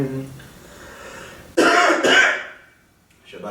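A single person coughs and clears their throat in an empty building, two close, harsh bursts in quick succession followed by quiet.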